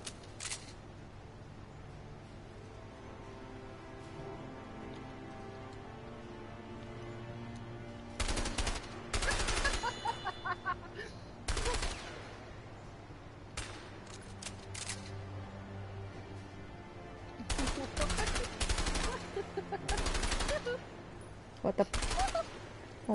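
Video game gunfire in A Way Out: several loud bursts of rapid shots in clusters, separated by quieter stretches of background ambience, with speech present.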